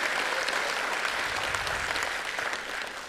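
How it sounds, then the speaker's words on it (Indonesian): A roomful of people applauding at an Indonesian ferry company's 50th anniversary celebration, a thick, continuous wash of clapping at an even level throughout. "Boleh tepuk tangan buat kita semua."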